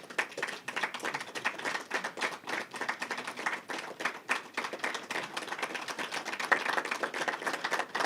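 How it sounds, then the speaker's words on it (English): An audience claps steadily for victims' families standing at a memorial gathering, a dense, continuous patter of many hands at moderate loudness throughout, with no speech over it. "we thank them by clapping hands"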